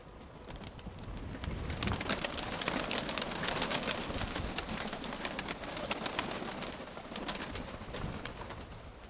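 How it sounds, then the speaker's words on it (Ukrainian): Pigeons coo and flutter nearby in a steady, noisy mix, with many soft clicks and wingbeats throughout. "в Сереге голуби заходять"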